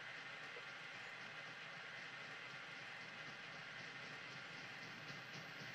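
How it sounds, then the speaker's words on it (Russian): A train rolls along steadily in the video game OMORI, a continuous dense rumble with faint rhythmic clatter holding at an even level throughout, with no voices. "Звук, как будто какой-то поезд едет."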